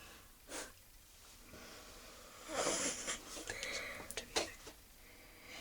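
Soft tapping on a makeup brush, then a short breathy puff of air blown onto it close up, followed by a few light taps and scuffs.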